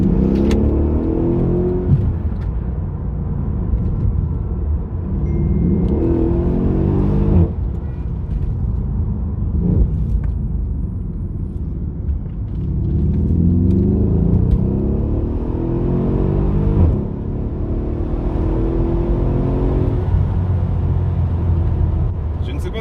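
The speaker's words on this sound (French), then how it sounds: "entend le bruit du moteur à l'accélération" A Mercedes CLS 63 AMG engine pulls hard under acceleration, its deep rumbling drone rising and falling through several surges, loud and close beneath someone talking over it.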